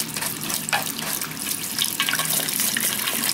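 Hot tap water runs steadily from a faucet as an Amazfit Bip smartwatch is rinsed, a close continuous splashing hiss with small flicks of spray.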